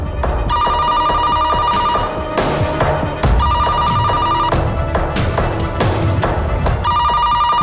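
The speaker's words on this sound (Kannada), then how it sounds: "ಇಲ್ಲಿ ಮಾತಾಡ್ತಾ ಇದ್ರೆ ಮಧ್ಯದಲ್ಲಿ ಆ ಫೋನ್ ಬೇರೆ ಬಡ್ಕೊಳ್ತಲ್ಲ" A telephone bell rings loudly and repeatedly in a domestic TV drama scene, in regular bursts over a busy background of music and noise.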